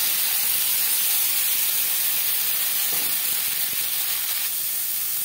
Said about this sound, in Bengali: মাছ ভেজে নেওয়া তেলে দিয়ে দেব পেঁয়াজ